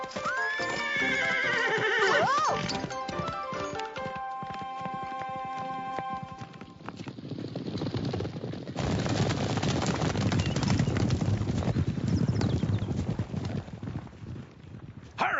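In an animated Western cartoon, a horse whinnies in long rising and falling cries, then its hooves clip-clop in a steady trotting rhythm over a busy, dense soundtrack.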